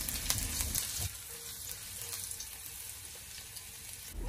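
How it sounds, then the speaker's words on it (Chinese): Ginger slices stir-fry in hot oil in a wok, giving a faint, even sizzle and hiss that continues throughout with no talking. "油热之后，下少许的姜片，给它煸炒一下，将它炒出香味"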